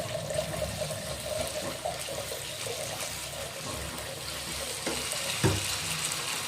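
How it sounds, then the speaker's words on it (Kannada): Water is poured into a simmering egg curry gravy, giving a continuous close splashing, bubbling wash with a brief clunk near the end and no talk. "ಇವಾಗ ನಾವು ಈ ಟೈಮಲ್ಲಿ ನೀರನ್ನು ಸೇರಿಸ್ಕೋಬೇಕು"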